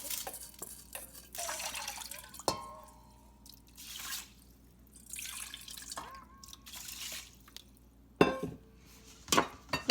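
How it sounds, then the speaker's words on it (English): Two cups of rinsed rice go into a rice cooker pot in a kitchen. Scattered drips, wet pattering and a few light metallic clinks come and go at low volume, with quiet pauses between them. "so I'm going to put it in a rice cooker"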